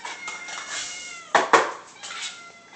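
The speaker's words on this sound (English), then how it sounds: "Dinner time for the kitties." Several short meows from cats at dinner time in a home kitchen, close and fairly faint, with a sharper louder meow in the middle and light clinks of dishes around them.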